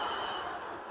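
A mobile phone rings at a home, a steady electronic ringtone heard close and fairly loud through the whole second, alone without any voices.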